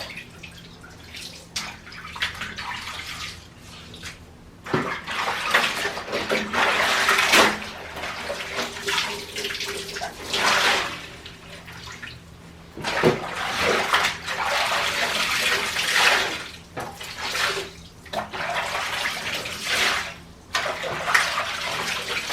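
Water runs and splashes steadily in a shower being cleaned, a loud close spray with surges and brief pauses over about twenty seconds, no voices.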